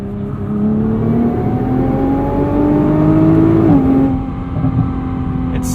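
The 3.8 liter twin turbo V6 of a 2021 Nissan GT-R Premium, heard from the cabin, climbs through a rising rev sweep with a steady droning tone. Near the end it shifts and settles into a lower hum.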